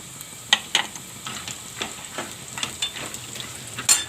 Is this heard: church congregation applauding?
no